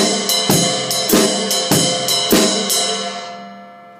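A shuffle groove on hi-hat and drums, a swinging rhythm of crisp cymbal hits with bright ringing decay, played steadily and fairly close.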